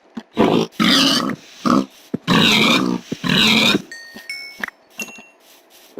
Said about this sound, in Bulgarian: Окей, много прасета.